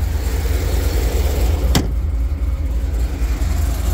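Cammed 2002 Corvette C5 Z06 V8 idling close by through 3-inch pipes and stock titanium mufflers, a steady loping rumble with a brief sharp click partway through.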